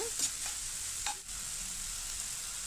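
Tomatoes fry with sautéed onions for mutton keema, giving a close, steady hiss of sizzling oil broken by a few brief stirring scrapes.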